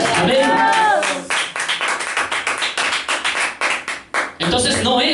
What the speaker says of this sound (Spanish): Denle un aplauso a Jesús en esta mañana